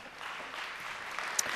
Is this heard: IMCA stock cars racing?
no